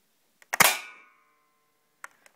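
A resprayed airsoft gun fired once at a target, a sharp close crack with a brief ringing tail, followed by faint clicks and a light knock.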